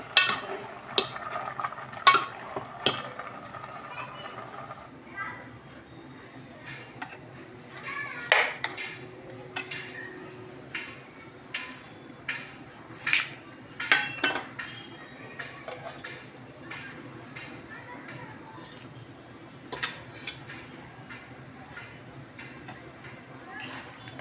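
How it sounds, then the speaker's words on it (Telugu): Boiled gongura leaves being mashed with salt in a pot, a steady run of soft scrapes, taps and metallic clinks from a utensil, close and fairly quiet with irregular sharper knocks. "తర్వాత కొంచెం ఉప్పు వేసి మెదిపేయాలండి"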